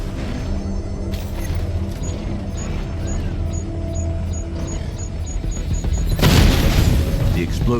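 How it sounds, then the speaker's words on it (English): A video game explosion in Batman: Arkham Knight booms loudly near the end, a heavy burst rising over a constant rumbling game soundscape with engine-like drones. "The explosion disabled the main cannon."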